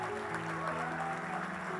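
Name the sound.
audience applauding in church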